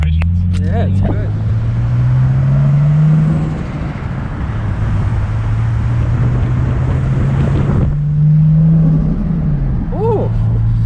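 Car driven to bed in a newly fitted clutch: engine note rising and falling through gear changes, with steady road and wind rumble and people talking loudly over it.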